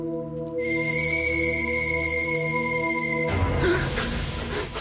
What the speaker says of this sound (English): There's a kettle whistling on the stove.